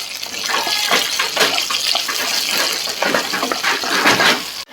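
Green chillies sautéed in hot oil give a continuous bright sizzle and crackle, close and fairly loud, swelling in waves as they are stirred, then cutting off abruptly at the end.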